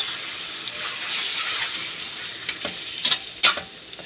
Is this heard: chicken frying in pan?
yes